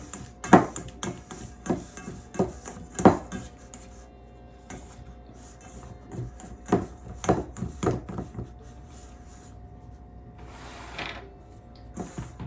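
A silicone spatula scrapes gluten-free cheesy garlic breadstick batter around a bowl, making a series of irregular knocks and scraping strokes at close range.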